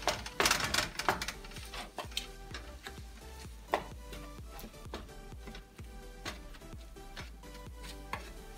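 A metal tool mashes and breaks up raw ground meat in a pan for nachos, giving a steady series of close, sharp tapping and scraping clicks with no talking.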